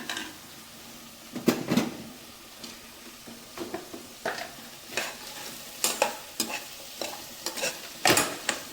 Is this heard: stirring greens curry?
yes